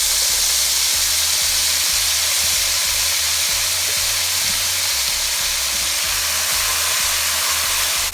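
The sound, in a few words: onion mixture with cumin and curry powder frying in oil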